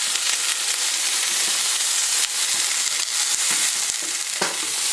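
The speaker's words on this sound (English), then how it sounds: "we're going to roll it around and sear it on all sides" Stuffed venison backstrap sears in olive oil while being rolled with tongs, a loud, dense, unbroken sizzle close up, with occasional crackles and pops.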